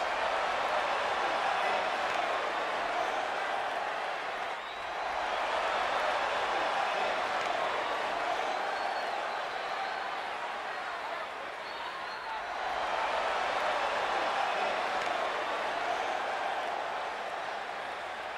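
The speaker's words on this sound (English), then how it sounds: "Listen to this crowd, guys. They're fired up for this one." A packed wrestling arena crowd at WWE Crown Jewel 2021 roaring and cheering, a continuous loud wash of voices that swells and dips slightly over time.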